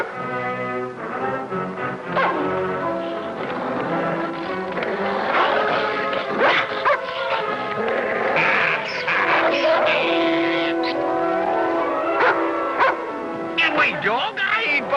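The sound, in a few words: dog barking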